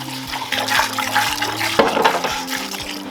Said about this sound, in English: I'll pour that into the big 5-gallon bucket